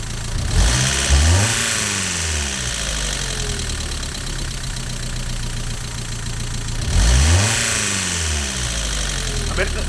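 A Mazda MX-5 with a misfire problem idles steadily nearby, its engine humming with a slightly uneven tick, broken by two brief revs that rise and fall before settling back to idle.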